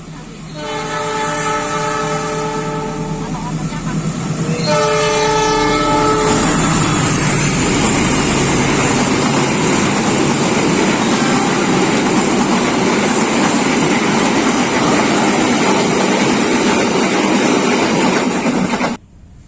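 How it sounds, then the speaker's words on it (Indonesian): A Pasundan passenger train arrives at Surabaya Gubeng station. Its horn sounds in two loud sustained blasts near the start, followed by the steady heavy rumble and clatter of the train rolling in close by. "Saat ini kereta api Pasuruan sudah tiba"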